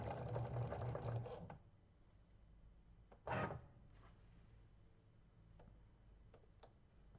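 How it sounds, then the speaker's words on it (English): A Cricut Maker cutting iron-on vinyl whirs and buzzes up close, pauses, then gives a short loud burst of motor movement and scattered light clicks against quiet background. "This machine cuts amazingly fast."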